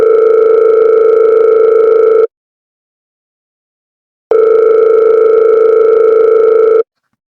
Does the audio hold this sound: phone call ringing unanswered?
yes